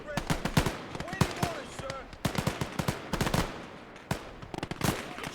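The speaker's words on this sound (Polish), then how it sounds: "Ameryka ma lepsze karabiny maszynowe" Rapid bursts of video game machine gun fire in Gates of Hell multiplayer urban combat crackle in quick succession, dense and loud, with short gaps between volleys and faint voices underneath.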